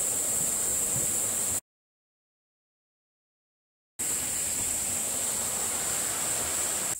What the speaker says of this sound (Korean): 시원한 계곡 물소리도 들립니다